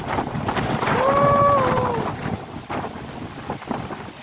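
Strong gusting wind buffets the microphone outdoors at Palo Alto, Marilaque, a loud rumbling roar that swells in the first half and keeps pulsing, with a faint whistling tone drifting through briefly.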